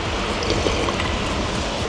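Water flowing in a Berlin sauna bathhouse makes a constant broadband rushing and splashing, fairly loud and close, with no voices.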